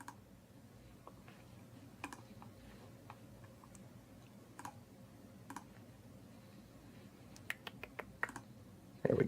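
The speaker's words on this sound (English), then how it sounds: "Just typing up some stuff behind the scenes here" Faint, sparse keystrokes on a computer keyboard sound as irregular light clicks over a quiet room hum, with a short flurry of taps near the end.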